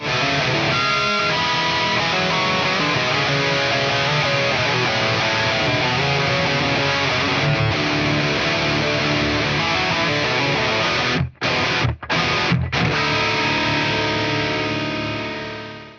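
Heavily distorted electric guitar plays the outro of a song, loud and continuous with effects, cutting out in several brief gaps near the end before fading.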